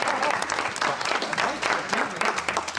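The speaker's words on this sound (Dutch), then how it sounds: "Applaus." Studio audience applause in a Flemish TV sitcom, steady clapping that runs the whole length with small swells and dips, bright and fairly close.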